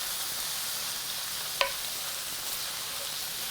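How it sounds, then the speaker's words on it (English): Steady broadband sizzle of ground Mangalitsa pork frying in a hot pan as taco seasoning is stirred in, with one sharp scrape or clink partway through, close and continuous with no voices. "Just stirring the seasoning enough to get the flavors cooked in."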